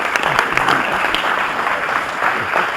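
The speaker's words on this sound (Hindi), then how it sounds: "हम सब जोरदार तालियां बजाएं" An audience at a lecture on Swami Vivekananda applauds loudly to welcome guru Dr. Pawan Sinha, with lively, crackling clapping that stays close and sustained for the whole stretch and a faint crowd murmur underneath.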